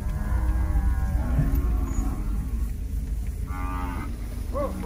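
A herd of cattle, agitated by a honking pickup truck behind them, moos loudly and close by in long, deep, drawn-out calls over a low rumbling background.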